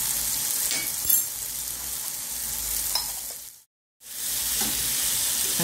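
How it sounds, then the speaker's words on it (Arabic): Sugar melting into caramel in a pot, stirred continuously with a steady sizzling hiss and occasional scraping, cut by a brief silent gap near the end. "هكا دوكا نحرك فيه باش هداك السكر تاني يتكاي ولي انت كاراميل"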